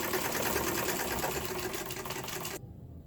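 A sewing machine stitches thread into paper, giving a quick, even mechanical whirring with rapid ticking, faint and close, that stops abruptly near the end.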